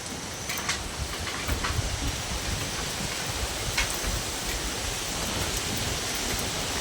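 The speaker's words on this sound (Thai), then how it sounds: "พายุเข้า" A storm sweeps through with strong wind and heavy rain, a steady dense roar of rain and gusts that holds loud and unbroken throughout with no voices.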